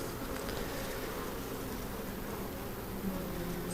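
Honeybees drone steadily around an opened hive frame during a colony split in Vermont, a dense, continuous close buzz with no speech over it.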